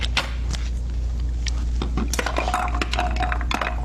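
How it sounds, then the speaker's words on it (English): Light clinks and taps from stirring a lime juice drink, a spoon knocking against a glass in scattered bursts over a steady low hum in a room. "Cami, do you want to give it a stir?"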